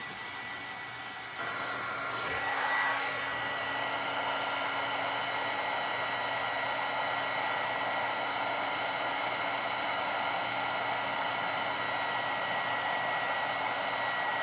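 A craft heat tool blowing steadily as it melts embossing powder on a stamped image, starting after a brief pause and then holding a constant airy whir for the rest of the stretch, with no talk.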